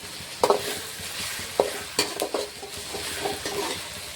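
Onions and tomato frying in a pan for egg rice, stirred with a spoon: a soft steady sizzle with sharp scraping and clanking strokes against the pan at irregular intervals, close and clear, no talk.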